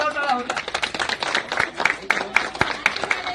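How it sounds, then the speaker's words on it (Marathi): Crowd applause at a gathering, a steady patter of many hands clapping with someone talking loudly over it throughout. "जोरदार टाळ्या होत्या"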